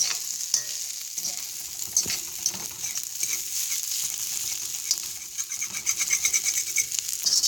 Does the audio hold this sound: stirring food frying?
yes